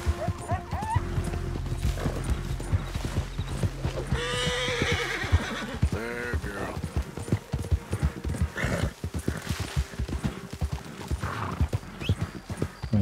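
Horse neighing and hooves clip-clopping in the Red Dead Redemption 2 video game, a whinny rising clearly midway over steady hoofbeats, with talk throughout.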